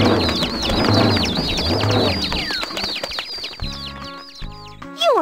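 Cheerful cartoon birds in the JumpStart Preschool video game chirp and tweet in rapid, repeated calls over busy game music, with the twittering continuing steadily throughout.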